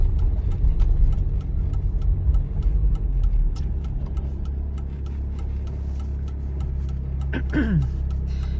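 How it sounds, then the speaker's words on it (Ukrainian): A car's right turn indicator ticking in a regular rhythm inside the cabin during a driving exam route, steady clicks over a low engine hum, with no talking. "Завчасно вмикаємо правий покажчик повороту."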